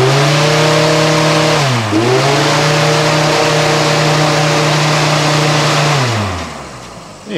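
A treadmill motor fitted to a half-inch shaft drives a fan at 120 volts, a loud steady humming whine that dips briefly in pitch early on, holds, then winds down near the end.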